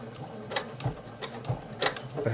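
Short bursts of sewing machine stitching, forward then back, sound as quick mechanical taps and clicks, with a person talking over them.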